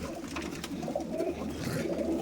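Pigeon softly cooing close by in a loft, a low murmuring throaty call that continues through the short stretch with faint background noise.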